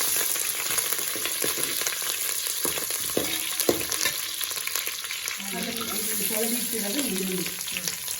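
Chopped chillies frying in hot oil, a constant moderate sizzle with scattered clicks of stirring, and a faint hum of background voices toward the end.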